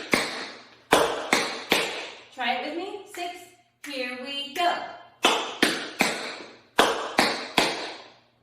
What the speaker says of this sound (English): Scuff, hop, step, heel, toe.